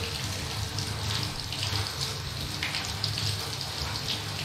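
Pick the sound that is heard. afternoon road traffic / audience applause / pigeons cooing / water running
water running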